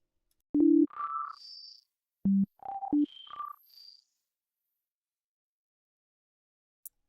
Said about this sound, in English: It's a frequency shifter built into the feedback chain